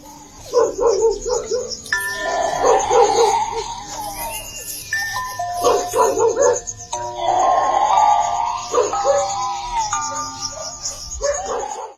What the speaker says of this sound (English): The dog freaks out, barking like crazy, and dashes down.